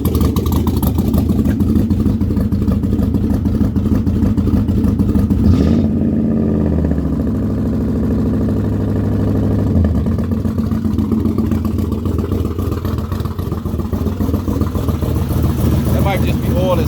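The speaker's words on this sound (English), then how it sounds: "Let me see what happened if I hit this gas pedal" A 1964 car with an LS engine swap revs as the gas pedal is pressed, a loud close throaty engine roar that swells and then settles back toward a rough idle, with voices talking over it.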